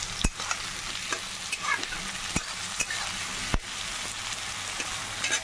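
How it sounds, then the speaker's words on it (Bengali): Potatoes fry in a pan while a spoon or spatula stirs them, giving a steady close-up sizzle broken by sharp scraping clicks against the pan several times through the clip, with no talking. "এটা একটু ভালো করে ভাজা ভাজা হোক"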